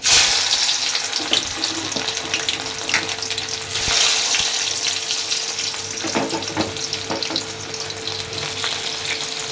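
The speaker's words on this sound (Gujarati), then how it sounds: "હવે આપણે એમાં ડુંગળી એડ કરી દઈએ" Onions fry in hot oil with bay leaf, cloves and other whole spices in a pan, producing a loud, continuous close-up sizzle with occasional stirring clatter and no talk.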